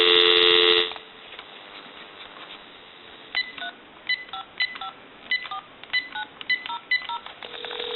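Telephone DTMF tones dialing out on a GE cordless DECT 6.0 phone to a time and temperature line: a steady tone at first, then a quick series of short, sharp two-tone beeps in an uneven rhythm, clear and close.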